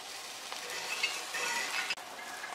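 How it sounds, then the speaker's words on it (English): Continuous crackling sizzle of plantain slices frying in hot oil, close and steady, with a brief clink partway through. "I'm just going to continue frying off the rest of them."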